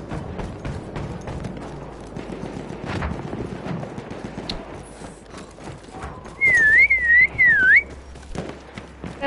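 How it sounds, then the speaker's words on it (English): A person whistles a short, wavering high tune near the end, loud and close, over a busy backdrop of game sound effects with hoofbeat-like clopping. "Gotta practice that whistle"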